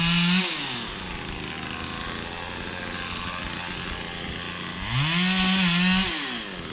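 A ported Husqvarna chainsaw cutting down small trees at a cabin site, a close, loud engine that revs high at the start, drones steadily under load, then revs again near the end.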